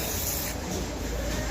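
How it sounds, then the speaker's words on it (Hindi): Cleaner spray hisses steadily into a meter machine, a loud continuous close-up spray lasting the whole moment without pause. "मीटर मशीन में अगर इस तरीके से आवाज़ हो तो क्लीनर स्प्रे की मदद से कैसे सही करें?"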